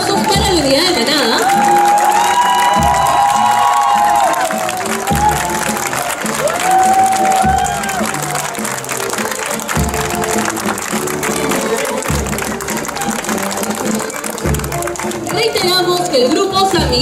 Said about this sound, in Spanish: Por favor, fuertes aplausos para la unidad de manada